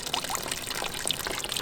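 Small waterfall fed by a $15 solar fountain pump, water splashing and trickling continuously over rocks from about six inches to a foot high, close and steady with no voices.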